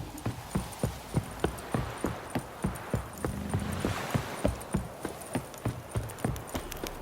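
Horse hooves clip-clopping on the ground in The Witcher 3: Wild Hunt, a steady rhythmic walking gait with evenly spaced, fairly close knocks continuing throughout, with no voices.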